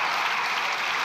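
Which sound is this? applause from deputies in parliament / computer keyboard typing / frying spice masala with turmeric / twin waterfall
applause from deputies in parliament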